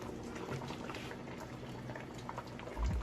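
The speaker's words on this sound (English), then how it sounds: "They're bubbling up quite nicely" Neck bones stewing in gravy in a pot, thick liquid bubbling and popping steadily up close, a dense continuous simmer with a louder burble near the end, no talking.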